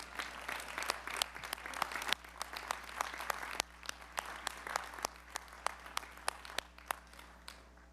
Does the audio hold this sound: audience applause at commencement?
yes